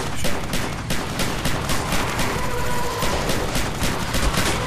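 Continuous automatic gunfire in the Nazi Zombies video game, a dense, loud rattle of rapid shots with no pause across the whole stretch.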